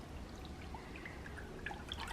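Evaporated milk is poured from a can into a bowl, a faint, soft trickling and dripping of liquid over quiet background.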